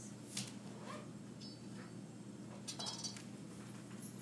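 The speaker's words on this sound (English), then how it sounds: "I'm going to measure it over a measuring cup so I don't get salt everywhere" A metal measuring spoon scoops salt over a measuring cup, giving a few light clinks and small scraping taps spread across a quiet kitchen background.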